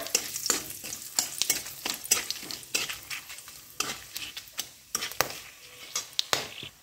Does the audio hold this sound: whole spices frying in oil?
yes